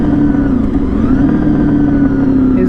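Honda VFR 800 sport motorcycle engine cruising at highway speed, a loud steady drone with constant wind rush and a faint rise in pitch partway through, no voices.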